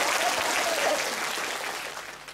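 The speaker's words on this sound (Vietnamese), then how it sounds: "Xin quý cộng đoàn cho một tràng pháo tay" A church congregation at a Vietnamese confirmation Mass in Perth applauds, a thick, even clapping that gradually thins and softens.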